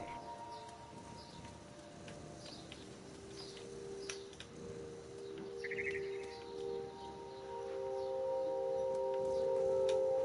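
A mama bird chirping in the game What Remains of Edith Finch, several short faint tweets over a soft ambient bed, with sustained musical tones swelling and growing louder toward the end.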